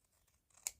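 Scissors make one short, crisp snip through sheet-music paper, cutting it along its height, fairly faint in a quiet room.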